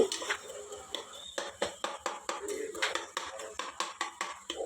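Repeated metallic taps and scraping of a utensil against a cooking pan while frying tomatoes, a steady rhythm of close, clattering strikes.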